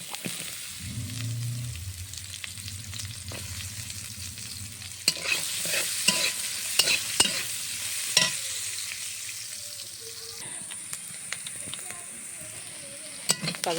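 Green chillies and chopped onion fry in mustard oil in a wok, a loud continuous sizzle and crackle with repeated scraping stirs from a spatula, steady and close, with no talk over it.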